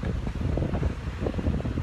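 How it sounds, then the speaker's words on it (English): Strong wind at the beach roars in gusty, rumbling buffets against the microphone, loud and continuous, with no voices. "Wow, is it ever so windy today at the beach"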